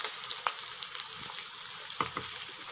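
Onions frying for fish biryani masala, a soft, steady sizzle with occasional crackles and light stirring taps, fairly quiet and close, no talking.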